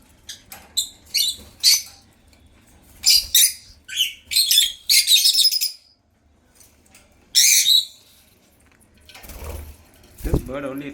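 African lovebirds eating fresh leaves give bursts of sharp, high chirps in quick clusters with short pauses between them, followed by a soft rustle and a low knock near the end.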